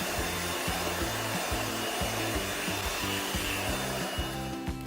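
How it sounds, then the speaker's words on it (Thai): An OSUKA OCJB846 cordless blower blasting water off an air conditioner condenser coil, a loud steady rushing roar with a pulsing low flutter as the airflow strikes the fins, close and continuous. "เราก็จะใช้เครื่องเป่าลมไร้สายนะครับเป่าไล่น้ำที่ค้างออก"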